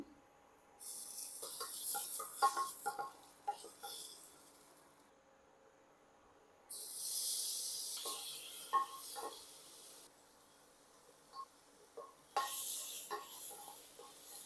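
Potatoes frying in a pan with green chili and onion give bursts of sizzling and stirring scrapes, alternating with quieter stretches of low crackle, close and moderately loud with no talking.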